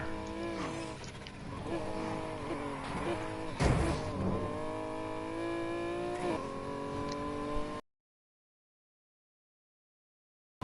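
A V12 engine revs in the racing game NFS Heat, a steady buzzing drone that climbs and drops in pitch through several gear changes, loud and close, then cuts off into silence.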